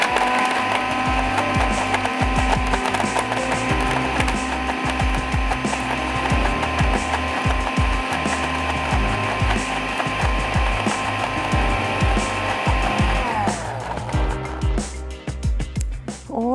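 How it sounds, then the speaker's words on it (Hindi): A blender whirs through creamy ingredients for a Bangladeshi chicken roast, its loud, steady motor drone running continuously before winding down and stopping near the end. "तो चलें इसको ब्लेंड कर लेते हैं।"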